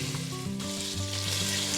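Minced meat hits a hot pan and fries with a loud, continuous crackling sizzle, close up and steady, the first step in cooking freekeh with chicken.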